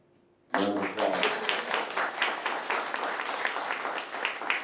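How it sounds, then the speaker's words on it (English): An audience at a literary festival breaks into a round of applause after a sudden start, individual claps audible in a moderately close, fairly brisk patter that continues steadily without speech. "Round of applause."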